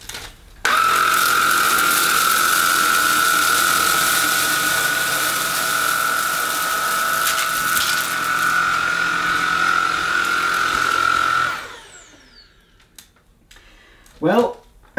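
A Tineco A10 Hero cordless vacuum cleaner runs loudly and close with a steady high whine while sucking at cereal on the floor, then shuts off and winds down, followed by brief clicks and rattles.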